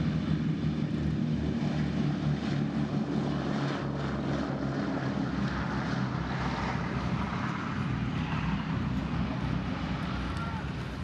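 The B-17 Memphis Belle, a World War II bomber, drones steadily from its piston propeller engines, a loud continuous roar that holds for about eleven seconds.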